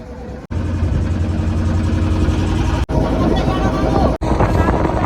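A motorboat engine on a river at Bhitarkanika National Park drones steadily and loudly with buffeting wind, broken by a few brief cuts.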